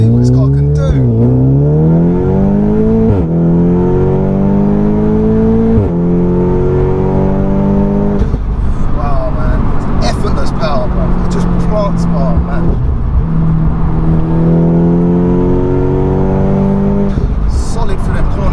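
A stripped-out 406bhp Audi S3 saloon accelerates hard through the gears, its engine note climbing repeatedly with abrupt drops at each shift, loud and close from inside the cabin as someone talks and exclaims over it.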